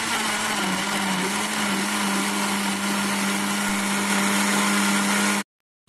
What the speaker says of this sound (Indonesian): Kemudian kita blender ini terlebih dahulu.